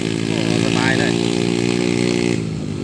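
A three-wheeler motorcycle in second gear climbs a hill towing an 800 kg trailer, its engine a loud, steady, close droning hum that eases slightly near the end.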